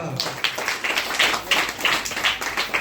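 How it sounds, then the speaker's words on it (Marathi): Guests at a 63rd birthday celebration clapping, a brief round of moderate, rhythmic applause from a small group, close by, with voices beneath it. "सगळ्यांनी टाळी वाजवा."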